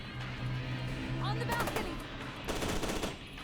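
Thin, quiet gunfire from the video game F.E.A.R. POO comes in two short rapid bursts under steady game background noise.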